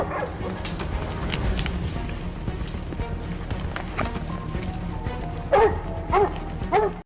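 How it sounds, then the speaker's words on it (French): Hunting dogs bark frantically outdoors after finding a wild boar, with several loud, sharp barks clustered near the end over a busy, rustling background. "Dès qu'ils laissent leurs chiens renifler, ces derniers commencent à aboyer frénétiquement."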